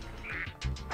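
Cartoon duck quacks from Spyro 2: Ripto's Rage in the Mystic Marsh level, several short nasal calls in quick succession mixed with game sound effects and background music.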